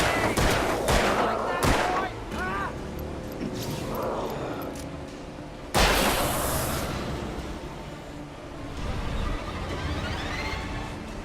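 Gunfire in the video game Alan Wake, a quick cluster of sharp shots followed by another loud blast, with a voice talking between them.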